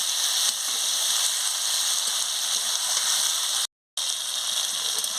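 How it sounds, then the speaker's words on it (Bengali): Potato and carrot pieces fry in a pan for a pomfret fish curry, making a constant, even sizzling hiss that runs close and unbroken, with one brief dropout near the end. "আলুটা আর গাজরটা ভালো করে কষিয়ে নিচ্ছি।"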